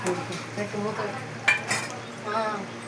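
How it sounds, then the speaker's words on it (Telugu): Telangana-style mutton curry simmering in a pan while a spoon stirs it, soft sizzling with scraping and a couple of sharp metal clinks near the middle, a voice talking faintly underneath. "Telangana mutton curry వండుతున్నాం."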